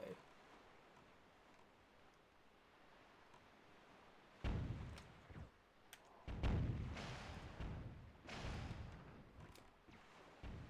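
Explosions in the Zelda Wind Waker Randomizer game: two loud booming blasts a couple of seconds apart, each with a rumbling tail, after a quiet stretch of low background sound.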